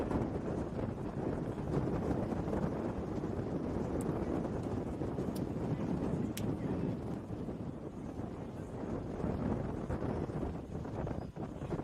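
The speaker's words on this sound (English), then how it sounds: "But it's very, very windy" Strong wind at an outdoor horse eventing course in Lion d'Angers buffets the microphone with a continuous loud roar that stays steady throughout, with no voices.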